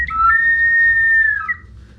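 A handmade whistle blown in a whistle workshop in Amozoc, Puebla gives one clear, sustained high tone about a second and a half long, close and loud, then stops.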